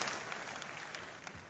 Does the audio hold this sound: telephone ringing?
no